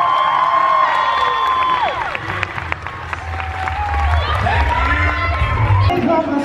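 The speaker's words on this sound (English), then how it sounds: "Let's give a round of applause and we'll show you." A VidCon panel audience claps, cheers and whoops together, a dense crowd roar filling the room with some shouting voices rising above the steady applause.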